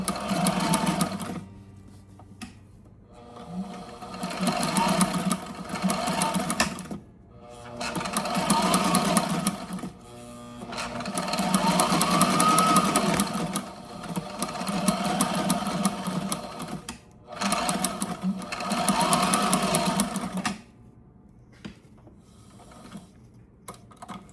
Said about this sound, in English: we will go on into the house and get this sewed up